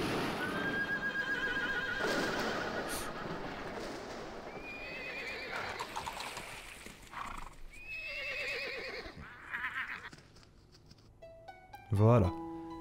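Horse in the adventure game Atlantis 2 waking with repeated loud neighs and whinnies over clip-clop hooves, a final sharp snort near the end, with a voice talking at the start.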